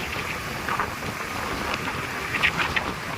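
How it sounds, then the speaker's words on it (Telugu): Steady rushing wind with a broad noisy roar, outdoors over the Godavari River at Rajahmundry, moderately loud and continuous with no one speaking. "గోదావరి మీద చాలా గట్టిగా గాలి వీస్తుంది."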